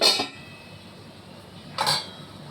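A metal lid set over a pot of crab being braised: two separate clinking clatters, one at the start and one near the end, close and fairly loud over quiet kitchen background.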